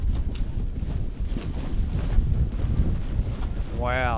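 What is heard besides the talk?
strong wind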